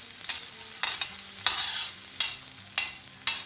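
Onions fry in oil in a pan while a utensil stirs them, a soft steady sizzle broken by about six distinct scraping strokes at a loose rhythm, close by.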